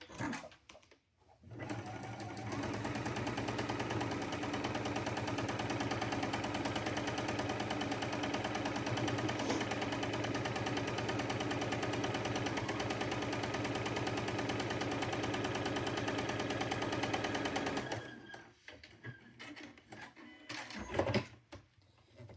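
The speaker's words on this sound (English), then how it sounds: "I've got to fix my sewing machine." A sewing machine stitching fabric runs steadily for about fifteen seconds, a fast rhythmic mechanical chatter, close by, then stops abruptly with a few soft clunks.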